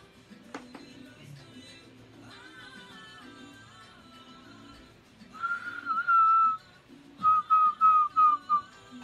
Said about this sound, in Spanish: ella entraba al aire mientras estaba chiflando